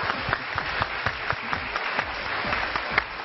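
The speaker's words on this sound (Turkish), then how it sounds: "Alkışlıyoruz." An audience claps along after a countdown during a health and exercise segment, a moderately quiet, steady round of applause with individual sharp claps standing out near the microphone.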